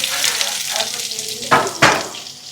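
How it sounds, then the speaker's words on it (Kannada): Onions sizzle and fry steadily in a hot pan for a fish curry, a close continuous hiss with two sharper bursts of crackle partway through as they are stirred. "ಇವಾಗ ಬನ್ನಿ ಈರುಳ್ಳಿ ಫ್ರೈ ಮಾಡ್ಕೊಳ್ಳೋಣ"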